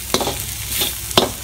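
Spoon stirring turmeric powder and salt through a sizzling pan of sardine curry base, a few sharp scraping strokes over a low background fry, close up with no talking.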